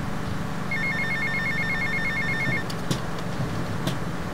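A payphone rings in GTA Vice City, a short burst of electronic trilling at a steady pulse over continuous game background hum, followed by a few faint clicks.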